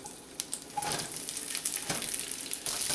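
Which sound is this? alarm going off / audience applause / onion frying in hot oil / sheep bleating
onion frying in hot oil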